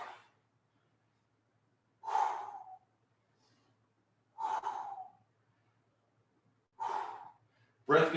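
A person doing a band pullover exercise at home breathes hard, with four heavy exhalations spaced about two seconds apart and a fifth starting at the end, close and alone against a quiet low hum.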